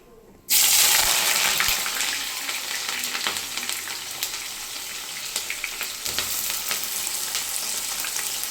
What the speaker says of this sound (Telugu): ఇక ఆయిల్ అయితే హీట్ అయింది ఇక ఇందులోనైతే ఆనియన్స్ వేస్తా